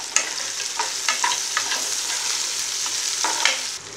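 Peeled garlic cloves fry in oil for a Tamil vatha kuzhambu, a close, continuous sizzle with irregular scraping taps of a spoon stirring through the pan.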